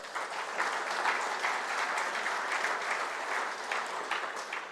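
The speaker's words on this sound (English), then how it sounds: "Let's give him a round of applause" Conference audience applauding a speaker after a talk on digital traffic regulation orders, a steady, even wash of many hands clapping from a hall-sized crowd, fairly distant and sustained for several seconds.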